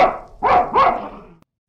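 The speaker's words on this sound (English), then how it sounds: "Dogs can be aggressive. They have sharp teeth, they bare their teeth and bark." A dog barking as a sound effect: two or three sharp, close barks in quick succession, loud and alone, ending abruptly.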